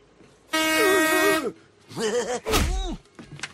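A loud horn blares straight into someone's ear, one long sustained honk followed by shorter wavering blasts, with a thump and a shouting voice mixed in.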